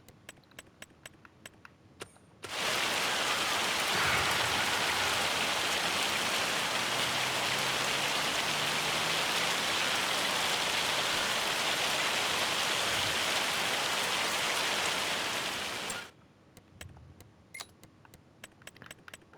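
Hail and rain pour down in the Farming Simulator 25 video game, a dense, loud, steady hiss of falling rain and ice that starts abruptly, holds for about thirteen seconds, then cuts off, with faint clicks before and after.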